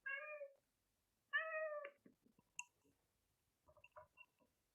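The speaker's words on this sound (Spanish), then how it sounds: "A ver el gato." A cat gives two clear meows in quick succession, fairly close but soft, followed by faint scattered clicks and small rustling noises in an otherwise quiet room.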